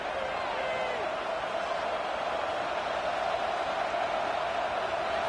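A packed stadium crowd at a college football game against Ole Miss roars on third down, a steady, dense wall of noise that holds without a break throughout.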